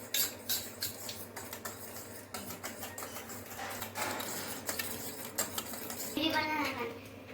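Whisking eggs with chilli powder and pepper in a bowl for an omelette: rapid, light metallic clinks and taps of a utensil against the dish, steady and close, with a voice speaking over it.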